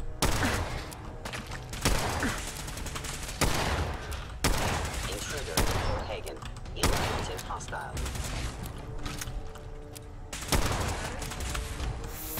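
Gunfire in Fallout 4 during a battle against synths, repeated bursts of automatic and single shots spread across the clip, loud and close, with a voice talking between them.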